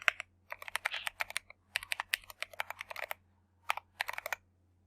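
Rapid bursts of computer keyboard keystrokes as an email address is typed, crisp clicking runs separated by short pauses, close and alone with no talk.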